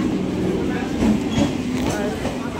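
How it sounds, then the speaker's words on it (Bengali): A train pulls into a station with a rumbling roll and rhythmic clatter of wheels on rails, while voices murmur underneath. "আমাদের ট্রেন চলে এসছে"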